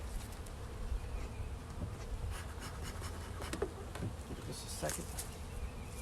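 Dense, steady buzzing of many honeybees at a hive being worked with smoke, close and continuous, with a few faint knocks and a brief spoken word.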